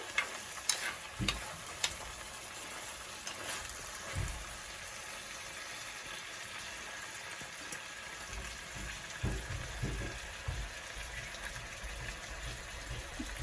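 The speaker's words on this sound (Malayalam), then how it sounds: "ചെറുതായി ഇളക്കി കൊടുക്കുകയാണ്. നന്നായി വഴന്ന് വരുന്നുണ്ട്." Onions sauté in a pan for Kerala-style fish moli, a low steady sizzle broken by a few scraping stirs near the start and more stirring later, quiet and without speech.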